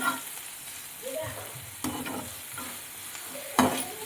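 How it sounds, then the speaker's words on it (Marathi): Finely chopped onion frying in oil with ginger-garlic paste, a steady close sizzle with stirring scrapes throughout and a sharper clatter near the end. "आणि आता टाकते आहे कांदा. बारीक कापलेला कांदा, आलं लसूण पेस्ट आणि तेल मी टाकून घेतलंय."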